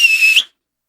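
A single loud, shrill whistle imitating a parent calling children home, one sustained tone under a second, ending with a short rising flick, then silence.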